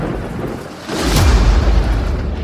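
Thunder rolls through a thunderstorm, a deep rumbling swell that builds after a second and lingers with rain-like hiss, loud and broad.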